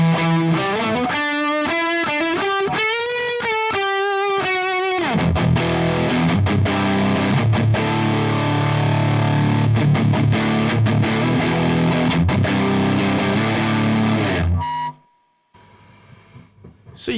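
A Telecaster played through a Boss JB-2 Angry Driver pedal with gain and drive fully cranked: a run of bent, sustained distorted notes gives way to heavy chugging chords, ending in a sudden cutoff and a faint buzz.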